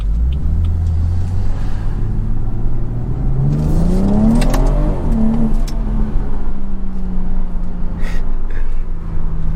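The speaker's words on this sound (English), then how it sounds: "This car accelerates so fast." A BMW car with a B58 engine accelerates hard, the engine note climbing steadily in pitch before a quick shift and another rising pull, loud and close from inside the cabin.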